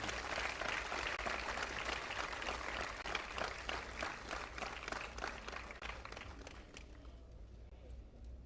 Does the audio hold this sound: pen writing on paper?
no